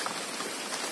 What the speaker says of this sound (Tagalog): Lumalakas na po talaga yung ulan dito guys.